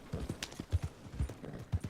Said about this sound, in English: So now we get to ride out, and everybody will compliment us on our horse.